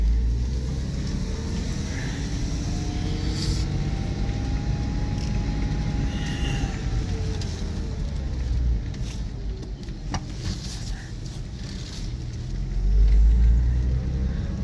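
A manual-transmission car with about 35,000 miles on a test drive gives a continuous low engine and road rumble heard from inside the cabin, steady throughout with a slight swell near the end.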